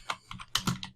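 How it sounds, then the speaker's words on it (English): Short burst of about seven keystrokes on a computer keyboard, close and clicky, with uneven rhythm and no speech. "Let's go ahead and type in our lesson name."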